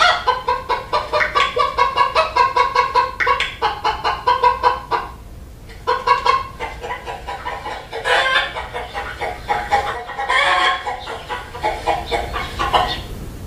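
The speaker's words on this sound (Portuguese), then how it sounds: "Acertou quem disse que é uma galinha." Hens cluck in repeated short bursts with brief pauses, close and fairly loud, and a rooster-like crow rises around the middle; no talking.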